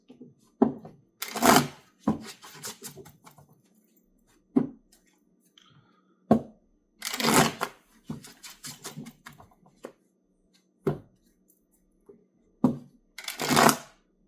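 Tarot cards being shuffled in repeated bursts, crisp riffling and slapping sounds separated by short pauses, close up and alone.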